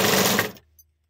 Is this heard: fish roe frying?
no